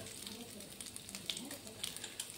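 Prawns frying in a pan with salt and turmeric, a steady close sizzle with small crackles and pops spread evenly throughout.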